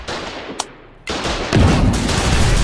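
Artillery in Foxhole: a short sharp crack, then a heavy boom and a rumbling roar that swells louder and holds, close and powerful.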